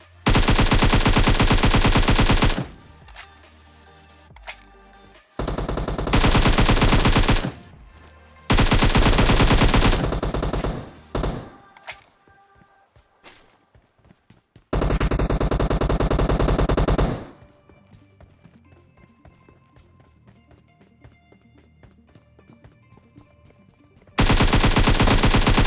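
Bursts of automatic gunfire in a solo-versus-squad shooter video game fight, several loud sustained volleys separated by gaps with scattered single shots and quieter in-game ambience between them.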